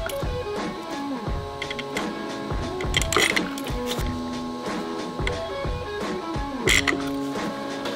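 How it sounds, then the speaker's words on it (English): Sheet metal shear or brake being worked while building a gear cooler, giving repeated clanking, mechanical strokes over a steady machine hum, moderately close and without talk. "I can just use this shear in here"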